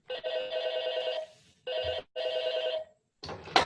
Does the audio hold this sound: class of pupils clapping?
no